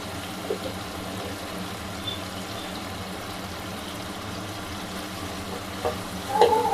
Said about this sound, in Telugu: మనకి ఇది గుజ్జులా అయ్యేంత వరకు వేపుకుందామండి.